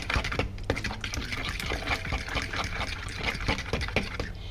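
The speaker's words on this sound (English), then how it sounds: "So whisk that up nicely." A fork whisks eggs in a bowl for a keto breakfast sandwich, giving quick, steady clicking taps against the bowl at close range with no voice.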